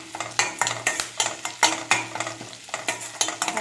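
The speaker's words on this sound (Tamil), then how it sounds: "இது எல்லாமே நல்லா ஃப்ரை ஆகட்டும். ஆனியன் ஓரளவுக்கு ஃப்ரை ஆன பிறகு பச்சை மிளகாய்," Onions and curry leaves fry in a pan while a spoon stirs them in quick, regular scrapes and clinks over a steady close sizzle.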